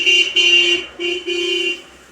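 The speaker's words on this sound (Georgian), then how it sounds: "ვინა სიგნალებს კარგეთ მეგობრებო" Car horns honking in four sustained, bright blasts with short gaps between them, loud and close with no speech.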